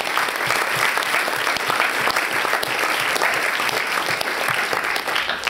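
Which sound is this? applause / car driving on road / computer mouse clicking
applause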